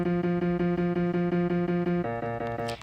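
Notes played in the My Singing Monsters Composer game, a steady repeating pattern of bright tonal notes that shifts to a higher pitch near the end, with no speech.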